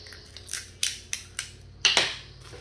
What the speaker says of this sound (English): I'm going to tape him in place